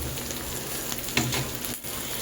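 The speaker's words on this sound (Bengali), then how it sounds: "ডাল সবজি সব একসাথে ভালোভাবে আরেকটু নাড়িয়ে চাড়িয়ে ভেজে নেব।" Sona moong dal and vegetables frying in oil while being stirred, a steady close sizzle with scraping stir strokes over it.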